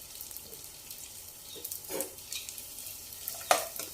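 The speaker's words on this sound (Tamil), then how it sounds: "இதில் நம்ம எடுத்து வச்சுருக்கிற முந்திரியும் திராட்சையும் சேர்த்து நல்லா வந்து வறுத்துக்கோங்க." Cashews and raisins roasting in ghee in a kadai, a soft low sizzle under stirring, with a couple of louder scrapes of the spoon against the pan.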